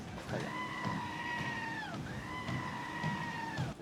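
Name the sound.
small goat bleating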